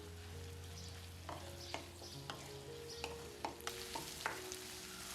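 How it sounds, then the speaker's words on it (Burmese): Shrimp frying with vegetables in a hot pan for a Burmese glass-noodle dish, a steady sizzle running throughout with repeated scraping stirs of a utensil against the pan, no voices. "ပြီးသွားရင်ပဇွန်လေးထည့်မယ်ပဇွန်ကထုံးစံတိုင်းအချိန်ကြာကြီးကြော်ပေးစရာမလိုပါဘူး"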